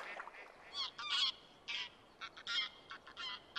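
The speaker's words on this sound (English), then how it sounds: "When the calls of wild geese fills the air one morning" Wild geese calling in a spring morning by the Danube backwaters, a series of repeated honks in irregular bursts, moderately distant and fairly faint, with no talking.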